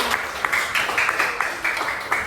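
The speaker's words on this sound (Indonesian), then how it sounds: "Beri tepuk tangan untuk semua." Schoolchildren in a classroom clap together for several seconds, a fairly faint, choppy patter of many hands with loose rhythmic bursts and no talk over it.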